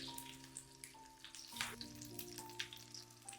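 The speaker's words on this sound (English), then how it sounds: "Place the coated chicken into the pan and fry over low-medium heat." Coated chicken breast frying over low-medium heat in a pan, a soft close sizzle with light popping and crackle, quiet and steady, alongside a faint background hum.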